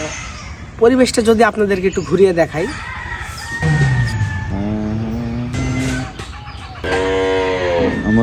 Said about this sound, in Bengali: সেখান থেকে মুরগির ডাক আসছে